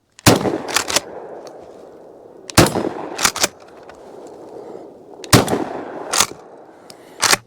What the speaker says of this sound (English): so you go right back to shooting your clays